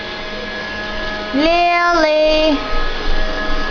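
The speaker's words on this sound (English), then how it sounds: "Your vacuum is dying." Motor whine of a dying household vacuum cleaner at an outdoor family picnic, a rising then steady tonal drone lasting about a second before dropping away, with a voice calling out nearby.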